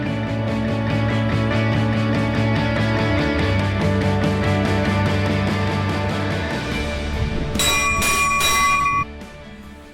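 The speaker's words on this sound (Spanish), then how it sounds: "La campana que nos dice que va a salir ya el tren del Urola en la estación de Azpeitia" A departure bell at Azpeitia station on the Urola railway rings in a steady run of sustained metallic tones. A brighter, higher ringing burst joins near the end before the sound drops away.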